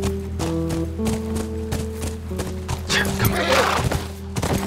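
A horse neighs and its hooves clip-clop in The Last of Us Remastered video game, with distinct hoofbeats over a steady tonal game score and a brief spoken line.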